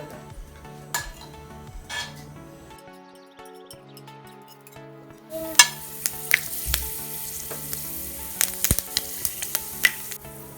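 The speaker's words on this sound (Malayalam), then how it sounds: "ഉലുവ പൊട്ടിക്കഴിഞ്ഞാൽ തീ ഓഫ് ചെയ്ത് കൊടുക്കാം." Fenugreek seeds added to very hot oil after mustard seeds splutter. A calm stretch with tonal background gives way to a burst of sharp crackling pops and spits, close and irregular, continuing to the end.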